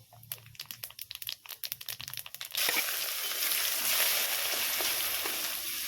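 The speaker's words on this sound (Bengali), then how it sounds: "তেলের মধ্যে আমি কি করব সামান্য পরিমাণ এই যে কালো জিরে ফোড়ন দিয়ে নেবো" Nigella seeds drop into hot oil for a Bengali fish curry, first crackling in sharp irregular pops, then breaking into a loud, steady, close sizzle that holds to the end with no talking.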